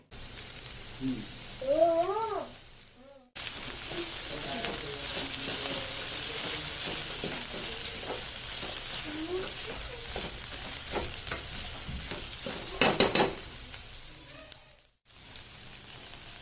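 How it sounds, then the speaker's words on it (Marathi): Mixed winter vegetables fry in oil for a Maharashtrian bhogi bhaji, giving a steady, loud broadband sizzle with a few stirring scrapes; a brief meow-like cry rises near the start, and the sound cuts out twice. "या भाज्या आपण तेलामध्ये छानपैकी दोन ते तीन मिनिट भाजून घेणार आहे"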